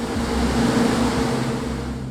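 Waves break over offshore rocks and reefs in Southeast Alaska waters, heard as a steady, loud surf roar mixed with a low boat engine drone and wind, with no talk.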